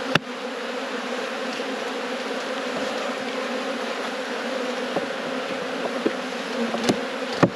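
Honey bees swarm and buzz around hives during a robbing event, a dense steady drone of many insects close by, with occasional louder passes as individual bees fly near.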